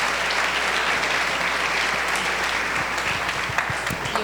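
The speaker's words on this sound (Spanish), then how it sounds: "Vamos a recibirlo con un fuerte aplauso también" A church congregation at a 65th anniversary celebration gives a dense, sustained round of applause to welcome its pastor, even and fairly distant throughout with no voices on top.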